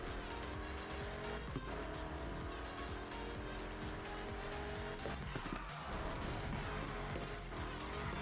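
Tires squealing as a car skids under braking in Need for Speed Heat, a loud continuous screech over steady engine roar with game music running throughout.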